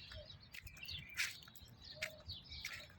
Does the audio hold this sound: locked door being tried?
no